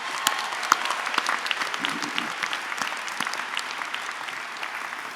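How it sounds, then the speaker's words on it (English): Audience applause fills a college graduation ceremony, continuous clapping with scattered sharper claps spread through a large hall, heard alone without talk. "Let's give everybody a round of applause."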